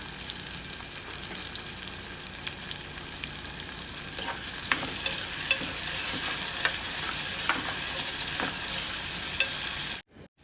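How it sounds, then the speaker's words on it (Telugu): Onion pieces fry in oil until reddish brown, a constant crackling sizzle with frequent stirring scrapes, swelling louder midway before cutting off abruptly. "అందులో ఉల్లిపాయ ముక్కలు వేసుకుని బాగా ఎర్రగా వేయించుకోవాలి"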